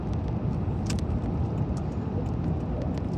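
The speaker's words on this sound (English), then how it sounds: "just gonna pull over quickly and let this truck go by" A truck passing on a road near a car that has pulled over, a broad steady rumble with low roadway noise throughout and no talking.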